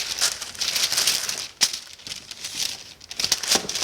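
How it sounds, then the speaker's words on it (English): Wax paper crinkling and rustling as a sheet is handled on a woodworking bench for gluing stacked laminations, with bursts of crisp crackle, a sharp snap partway through and quieter gaps between. "We'll put our piece of wax paper in there."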